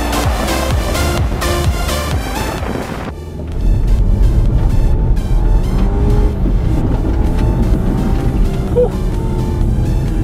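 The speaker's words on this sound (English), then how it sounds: "We're gonna go ahead and do a launch in the X3 and see how it fares on not so great pavement" A 2017 BMW X3 launching hard on rough, broken pavement, engine roaring loudly and steadily with heavy wind buffeting and road noise, building after a brief lull partway through.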